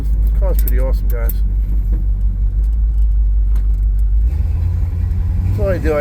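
Steady close engine rumble of a 1955 Chevrolet Bel Air two-door hardtop on the move, shifting pitch partway through, while someone speaks over it at the start and end.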